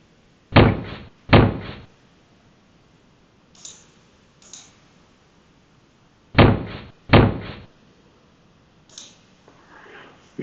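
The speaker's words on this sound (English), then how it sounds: "we hear the impact sound" Impact sound effects from a Unity 5 game, heard as four loud, sharp thuds in two pairs, each with a short ringing tail, separated by fainter softer knocks and quiet gaps.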